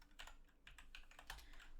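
Quick, light keystrokes tap out on a computer keyboard while scripting in Roblox Studio, a brisk irregular run of faint clicks heard close and alone.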